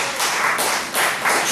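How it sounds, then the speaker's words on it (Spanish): Congregation in a church clapping together in steady bursts of applause, loud and close, with brief dips between waves of clapping. "Den un aplauso fuerte a Jesús"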